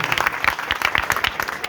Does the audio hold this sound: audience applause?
yes